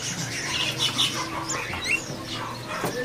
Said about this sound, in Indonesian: Untuk hari ini ready burung parkit.